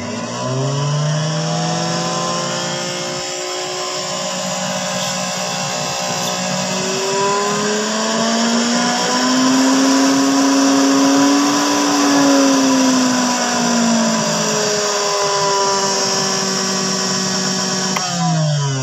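A Best Choice Technik TCB25QS blender runs continuously with a loud, whining motor whose pitch sags and rises as the load and speed shift, heard up close with no talking.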